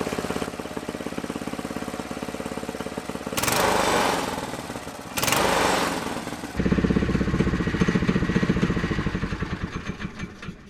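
A cheap go kart engine with its carburetor running rich idles roughly, then revs hard twice in loud bursts and drops back to a throbbing, sputtering idle, close up.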